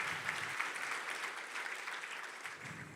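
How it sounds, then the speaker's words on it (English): Audience at a book launch for Martha Karua's Against The Tide clapping together, a dense steady wash of applause heard from within the crowd, fairly quiet and sustained. "can we just give a round of applause to all of you for being here tonight"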